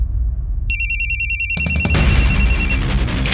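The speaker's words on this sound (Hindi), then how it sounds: "साइबर सेल से फोन था" Telephone ringing in a Hindi crime drama, a loud electronic ring that starts after a low background hum and repeats in quick pulses before fading into noise.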